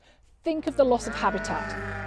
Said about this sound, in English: You can hear the sheep in the background.